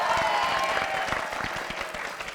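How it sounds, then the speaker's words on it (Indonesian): A studio audience claps for a guest star in a dense, steady round of applause that thins slightly toward the end, with a faint voice mixed in. "Tepuk tangan lu bintang tamu."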